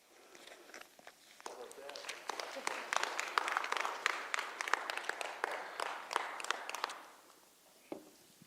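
An audience claps after an evening parent-education talk, applause swelling from scattered claps into a steady round before fading out near the end.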